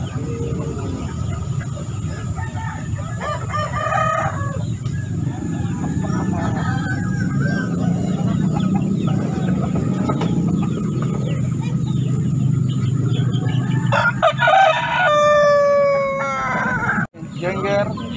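Turkeys (ayam Peru) call at a busy market, with rooster-like crowing and clucking rising over a constant crowd murmur and voices, one loud, drawn-out call standing out near the end.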